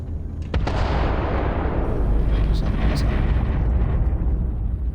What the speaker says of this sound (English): Dude, this place is insane. Just explosions.